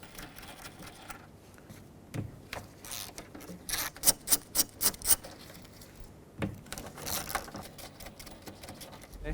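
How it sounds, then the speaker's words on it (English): A wrench clicks away at the three 10mm nuts holding the side-view mirror on a 2001-07 Toyota Sequoia: a quick run of sharp, quiet mechanical ticks mid-clip, with scattered softer clicks before and after and no talking. "the only thing left to do is to remove these three 10mm nuts that hold the mirror in place"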